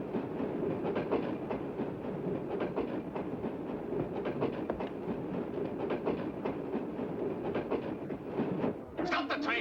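A steam-era passenger train runs steadily along the rails with a constant rumble and repeated clickety-clack of wheels over rail joints, heard close from inside the carriages, and a voice breaks in near the end.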